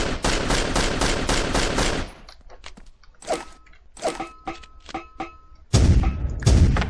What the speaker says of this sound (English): There's also a pistol. Works about like you would expect a pistol to.